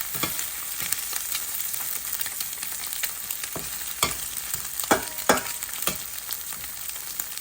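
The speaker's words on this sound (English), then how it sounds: "Flip it and let it cook on the other side" A breakfast of longanisa, mashed plantain and fried eggs crackles in a frying pan after a flip. The steady sizzle carries sharp spatters and scraping stirs that come and go, and no voices are heard.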